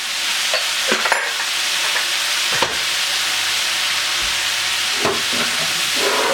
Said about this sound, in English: Keep stirring this up, cooking all evenly.